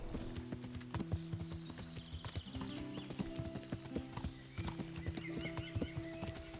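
A horse trots along a road in the medieval video game Kingdom Come: Deliverance, its hooves clip-clopping in a quick, even rhythm over a steady tonal game soundtrack, with no talking.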